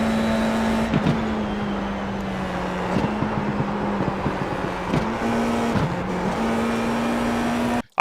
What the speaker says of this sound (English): the car was quite stable through the whole corner, so it didn't lose any time sliding